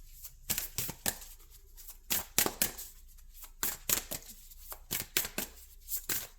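Tarot cards are shuffled by hand in an irregular series of soft, close flicks and slaps with quiet pauses between them.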